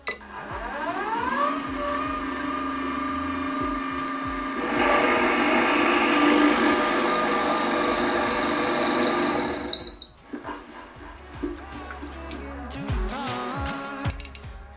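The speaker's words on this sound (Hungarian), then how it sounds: "A gépkönyv alapján beállított 1500-as fordulattal fogok egy kétszolos tölgy pallóba egy 30 mm-es lukat fúrni." A Teknatool Nova Viking drill press running at 1500 rpm bores a 30 mm hole into a two-inch oak plank, giving a loud, steady tonal whine for about ten seconds before dropping to a quieter run.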